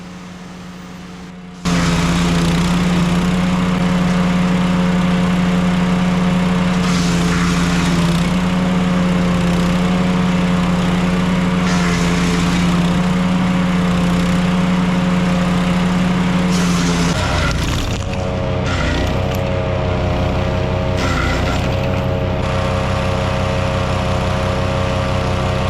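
Small wood chipper chewing through brush from a few cut-down small trees, its engine starting up loud and droning steadily with a strong hum, then shifting and grinding irregularly as branches feed through, with no talking.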